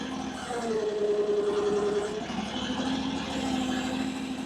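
A steady, moderate engine hum from an AGT LRT23 Chinese mini skid steer, running below high RPM while lifting a load with counterweights. The drone stays fairly even and slightly distant throughout.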